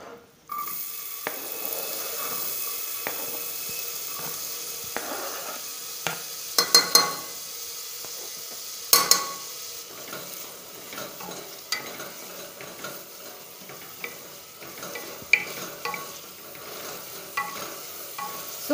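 Onions frying in a home kitchen pan for a Bengali Chaitra Sankranti meal, a steady soft sizzle with repeated scraping stirs and a few sharper clinks of the spoon against the pan, close by, with no talk.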